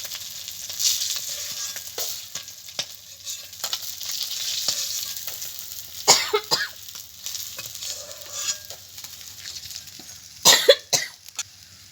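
Silver carp pieces fry in hot oil, a soft continuous sizzle broken by scraping stirs and a few sharp clatters, with a nearby cough; no talking.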